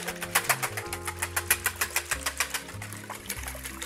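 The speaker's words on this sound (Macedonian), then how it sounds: "малку брашно, малку вода, малку брашно, малку вода. Ќе ги изматам." A whisk beats flour and water into crepe batter in a bowl with quick, even, close-up strokes. The strokes tap in a steady rhythm over quiet background music.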